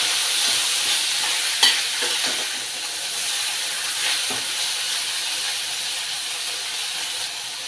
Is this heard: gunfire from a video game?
no